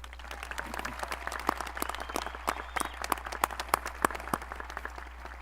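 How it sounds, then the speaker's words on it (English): Audience at a high school commencement ceremony claps steadily, a dense crowd applause with individual sharp claps standing out, over a low constant hum, no talking. "can we give a round of applause for Mrs."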